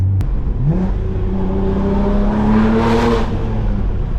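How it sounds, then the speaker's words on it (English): A BMW M3 accelerates hard with its intake roaring. The engine tone climbs loud and close, and the strong, steady mechanical whir builds and swells as it revs. "You guys hear the intakes?"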